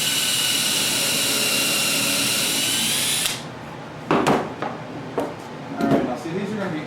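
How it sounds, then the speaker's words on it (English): Power drill with a pilot drill chamfering head spins steadily at high speed while driving the first screw into kitchen cabinet wood, then cuts off abruptly, followed by a few knocks and handling noises. "start my first screw with a pilot drill chamfering head"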